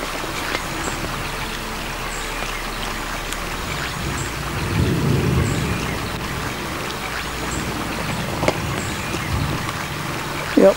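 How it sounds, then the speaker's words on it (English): A low, rolling thunder rumble swells in the middle of steady rainfall during a springtime hike at a wildflower preserve, with the patter of rain continuing throughout. "Yep, that's thunder."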